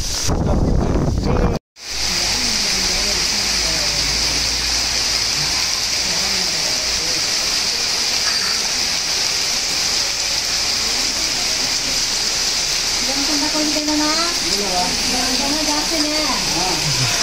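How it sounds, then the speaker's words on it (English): Heavy rain near Muninagara Dam, a dense steady hiss of falling water with wind buffeting the microphone, continuing without break after a brief cut near the start, with faint voices in the background. "It's raining."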